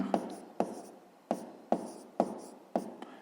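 Pen or pencil writing numbers on paper while a fifth-grade math exercise is worked, six short scratchy strokes in an even rhythm, close and fairly quiet, with no talk.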